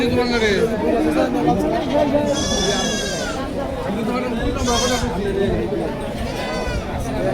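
Goats bleating at a crowded livestock market, several loud wavering bleats rising over a constant hubbub of voices and chatter, with overlapping calls from nearby animals including mothers with kids.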